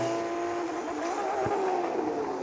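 An Aston Martin DB9 Coupé drives in a multiplayer racing video game, its engine holding a steady, continuous drone with a slight rise in pitch, fairly quiet and with no talking over it.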